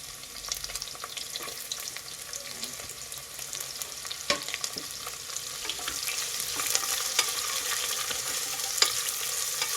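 Long-sliced thick onions frying in a pan, a soft continuous sizzle with occasional sharper crackles and stirring knocks, fairly quiet and steady with no talking.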